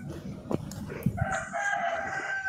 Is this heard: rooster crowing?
yes